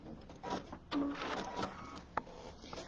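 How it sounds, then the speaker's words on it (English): A sewing machine stitches around a quilt piece, its quiet mechanical whirring and clicking running in short bursts with small pauses. "So I have sewn all the way around this"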